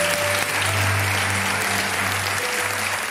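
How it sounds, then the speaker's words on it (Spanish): Studio audience on an afternoon radio show applauds in a dense, even wash of clapping throughout, with a steady hum underneath. "Un aplauso para ti, hombre."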